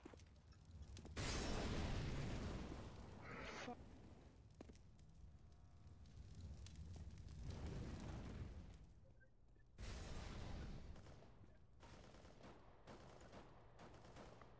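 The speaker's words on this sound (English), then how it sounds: "Flashbang out." Flashbang grenade bursting in CS:GO, a loud broadband blast followed by a ringing hiss, then another burst a few seconds later amid game noise, fairly close and without talk.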